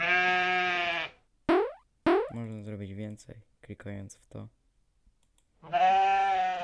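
Cartoonish sheep bleats from an animated desktop wallpaper ring out at the start and again at the end, with a few clicks and someone talking in between.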